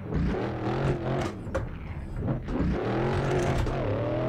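BMW E36 engine revs hard during a 360 spin on a snowy road in Assetto Corsa, a loud continuous engine drone rising and falling in pitch with throttle blips, close and sustained.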